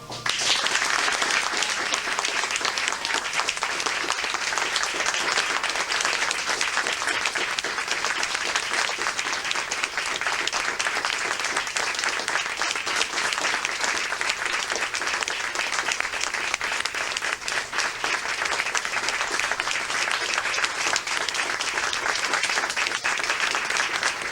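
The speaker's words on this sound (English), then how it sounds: "I'd like to offer a final round of applause." A memorial ceremony audience applauds loudly and steadily in an indoor room. The dense clapping stays even for the whole stretch, with no speech on top of it.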